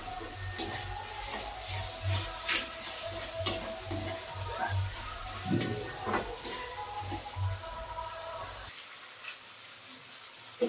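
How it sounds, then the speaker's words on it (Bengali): Spices fry and are stirred in a pan for a kohlrabi and potato curry. A steady sizzle runs under repeated scraping strokes of a spoon, then drops away near the end. No one talks. "এখানে মশলাগুলো খুব ভালো করে কষিয়ে নেব।"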